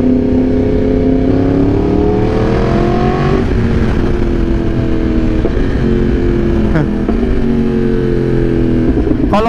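A Yamaha R1M sport motorcycle engine drones loudly and steadily while being ridden, its pitch rising and falling with throttle changes and wind rushing past, without a break.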